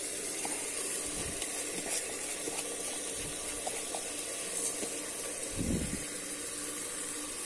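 Water is poured in measured amounts onto rice in a pressure cooker, a soft trickling and splashing at moderate distance over a steady background hiss.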